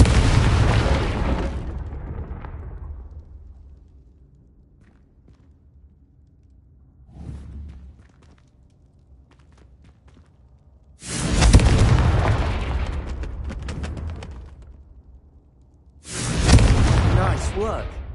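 Confringo spell blasts from Hogwarts Legacy: a loud explosive burst at the start, a smaller pop near seven seconds, then two more big booming blasts with long roaring decays, with talk in between.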